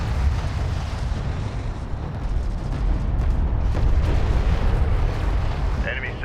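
Battlefield explosions and heavy gunfire as an enemy salvager is destroyed under fire support in the strategy game Homeworld: Deserts of Kharak, a dense, continuous low rumble of blasts with radio-style voices talking over it.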